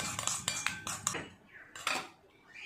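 A spoon stirs turmeric powder into ghee in a small bowl, making a quick series of close metallic clinks and scrapes that stop and resume briefly.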